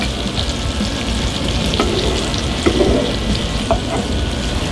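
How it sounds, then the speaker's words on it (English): Tri-tip steak searing in a pan beside leftover mushrooms and garlic, a steady close sizzle with occasional crackles and faint scraping, with no voices. "So it's time to put our steak down."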